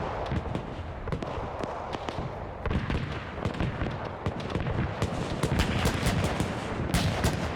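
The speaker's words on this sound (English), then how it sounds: "AA gun firing" An anti-aircraft gun fires again and again in a World War II battle game, with rapid repeated sharp reports over continuous rumbling battle noise and no voices.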